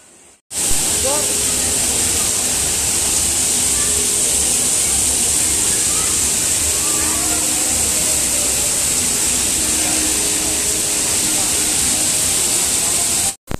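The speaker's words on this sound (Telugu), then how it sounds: "రియల్గానే వాటర్ ఫాల్ పడుతున్నట్టు తయారు చేశారు ఇక్కడ చూడండి మౌంటైన్స్ నుంచి" Steady, dense rush of water from an artificial waterfall spilling down mock mountains at a Kashmir-themed indoor exhibition, a continuous hissing wash that stays even and fairly loud throughout.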